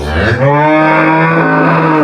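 A dairy cow gives one loud, sustained moo close by, a deep drawn-out low call with no other sounds.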